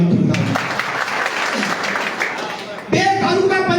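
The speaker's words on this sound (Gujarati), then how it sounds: "તાળી વાગડી" Audience applause at a political welcoming ceremony in Ajab village, Keshod, a steady broadband wash of clapping that swells again near the end, close and fairly loud.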